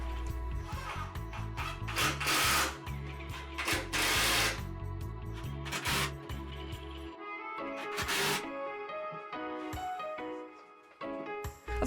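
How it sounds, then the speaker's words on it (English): Power drill pre-drilling plywood for a cubbyhole unit, close bursts of whirring motor with grinding bites into the wood, several separate runs broken by short pauses. "I started with pre-drilling the plywood for this one cubbyhole unit"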